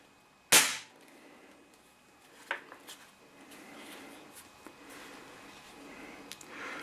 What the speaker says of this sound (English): And then every shot then is just cycling the magazine